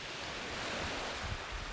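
Sea waves on Scotland's north coast wash in a steady, broad rush, mixed with wind buffeting the microphone.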